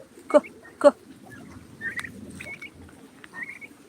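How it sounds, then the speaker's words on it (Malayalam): A white turkey calls with two short, close, throaty bursts in quick succession, followed by faint, thin bird chirps over a soft outdoor background. "ടർക്കി ടർക്കി ടർക്കി ആ വൈറ്റ് ടർക്കി"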